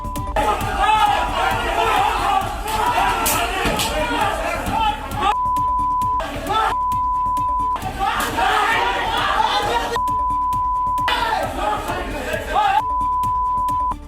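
A crowd of people loudly attacking and beating an accused man as he steps out of a police vehicle, a dense roar of shouting and chatter that rises and falls, with brief breaks where a steady tone cuts in.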